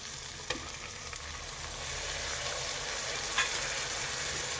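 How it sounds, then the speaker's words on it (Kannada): Chopped ripe tomatoes fry in a pan for a menthya bath lunch-box recipe, producing a steady, dense hiss of sizzling with a couple of soft stirring clicks, continuous and close with no voices. "ಈ ಟೊಮ್ಯಾಟೊ ಸ್ವಲ್ಪ ಚೆನ್ನಾಗಿ ಫ್ರೈ ಆಗಬೇಕು ಮತ್ತು ಸ್ವಲ್ಪ ಸ್ಮ್ಯಾಶಿ ಥರ ಆಗಬೇಕು."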